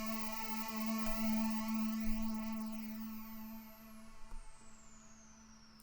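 A sustained GarageBand synth note in the Stranger Things style, with phaser and delay turned all the way down, holds steady and bright for several seconds with a strong low tone, then shifts slightly near the end.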